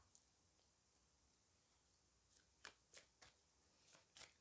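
Tarot cards shuffled by hand for a reading, a faint run of soft riffling bursts toward the end, about six short close swishes after a quiet stretch, alone without voices.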